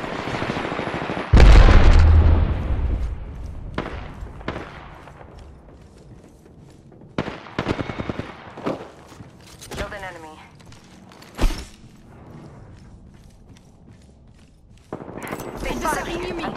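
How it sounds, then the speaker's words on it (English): Repeated gunshots and bursts of gunfire ring out in an Apex Legends ranked match on Kings Canyon, starting with a loud heavy blast and continuing as scattered sharp shots, with game voice lines and effects mixed in. "I'm taking shots"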